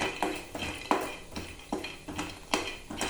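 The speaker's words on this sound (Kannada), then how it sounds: "ಮೀಡಿಯಮ್ ಫ್ಲೇಮಲ್ಲಿ ಇಟ್ಬಿಟ್ಟು ಸ್ವಲ್ಪ ಒಂದೆರಡು ನಿಮಿಷ ಹುರ್ಕೊಳ್ಳೋಣ ಅದನ್ನು" Peanuts and coconut pieces roasting in a pan over medium flame for a Gorikayi Gojju, a spatula or spoon scraping and stirring in repeated close rhythmic strokes with light rattling, no talk.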